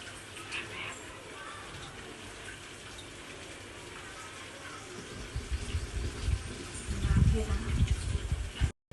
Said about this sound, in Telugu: చింతపండు పులుసు పోసేద్దాం.